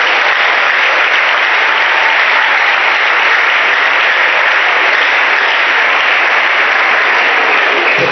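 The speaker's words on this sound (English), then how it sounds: "Clap for Jesus." Church congregation clapping loudly and continuously, a dense, sustained wash of applause filling the space from start to finish without pause.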